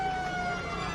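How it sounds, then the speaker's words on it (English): Quarter-time siren at a country football grand final, a sustained steady tone held loud throughout a short stretch over ground noise. "the siren beats him"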